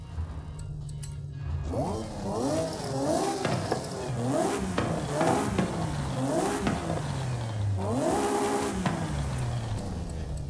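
A straight-six car engine in the Forza Horizon 5 racing game, fitted with an upgraded exhaust, revs repeatedly, its pitch sweeping up and falling back in several loud, close bursts with a brief low idle at the start.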